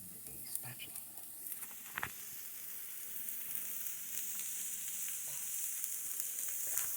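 Ribeye steaks sizzle on a hot griddle, a soft continuous crackling hiss that swells after a few scraping knocks, quiet with faint talk early on.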